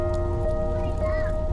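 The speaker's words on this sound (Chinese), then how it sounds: "下大雨了" Heavy rain falls steadily outdoors in a small forest setting, a constant close hiss and patter with faint sustained tones running underneath.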